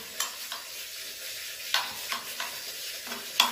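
Onions frying in a pan, the ingredient for a Moroccan chakhchoukha dish, give a soft steady sizzle, with a few scattered scrapes and stirring clicks over about three and a half seconds.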